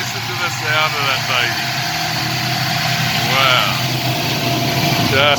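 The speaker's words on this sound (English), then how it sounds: "Listen to the sound of it. I love that Mustang." A 1966 Mustang Shelby GT350 replica engine idles with a steady, rumbling drone while a person talks excitedly over it.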